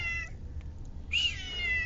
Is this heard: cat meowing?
yes